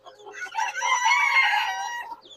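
Farm chickens cluck and call in a close, clear burst of layered squawks lasting about two seconds, with no one talking.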